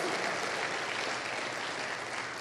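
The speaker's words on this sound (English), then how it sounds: "Come on, more applause, more applause." Dense applause from a large audience at a motivational speaking event, a continuous wash of clapping at steady volume with no pauses, heard from a distance.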